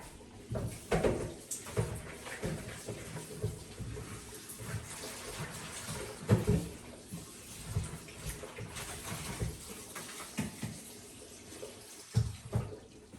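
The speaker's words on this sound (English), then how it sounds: "So now I'm going to rinse these green beans." Tap water runs over green beans being rinsed in a kitchen, a soft splashing stream with intermittent clatter and knocks from handling.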